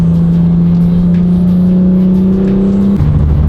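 A tuned BMW F82 M4 with a Valvetronic exhaust holds a loud, steady engine drone for about three seconds, then the pitch drops slightly as the revs settle, close up with no talking.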